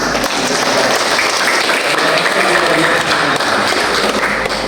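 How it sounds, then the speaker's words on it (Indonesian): A small audience at a regency send-off ceremony for cooperative-anniversary small-business assistants breaks into loud, close, continuous clapping that stays dense and even throughout. "kita sedikit orang tapi kita tepuk tangan dulu"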